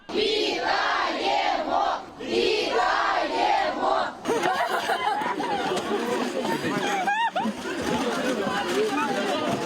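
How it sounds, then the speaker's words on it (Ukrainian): A large crowd gathers outside a hospital to welcome freed prisoners home, cheering, shouting and chattering loudly and close by throughout. "Біля лікарні, куди везуть звільнених хлопців, теж натовп зустрічаючих"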